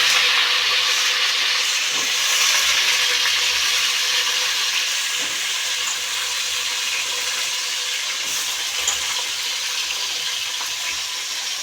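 Mustard seeds and garlic frying in hot oil in a pan, a steady loud hiss and sizzle with faint crackles running throughout, no voices.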